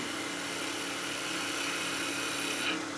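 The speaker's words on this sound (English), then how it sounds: "I'm just going to square that up with a planing cut on my skew" A steady, close whirring hiss of a wood lathe as a skew chisel takes a planing cut on a spinning wooden top, constant and even throughout with a faint hum beneath it and no talking.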